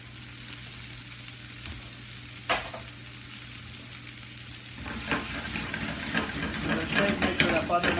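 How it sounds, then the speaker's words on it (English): Cauliflower and Brussels sprouts frying in butter and oil in a pan, a steady sizzle that grows louder and busier with crackling pops as water cooks out, with occasional stirring. "So you'll hear the Brussels sprouts cracking. That's the water cooking out."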